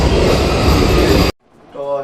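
A train passing at a station on a trip from Jhalda to Purulia: a loud, close, broad roar that runs steadily, then cuts off abruptly into near silence before a voice begins speaking.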